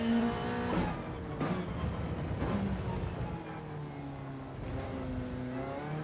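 Toyota Supra GR.3 race car engine in Gran Turismo 7, revving and rising in pitch through repeated gear shifts, steady and fairly close.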